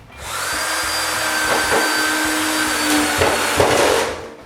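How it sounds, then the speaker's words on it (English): A router cuts a hole for an electrical box in a plywood ceiling, a loud, continuous high-speed whine with a few brief changes in pitch as the bit works through the sheet, close and without talking. "The hole for the electrical box is cut with a router."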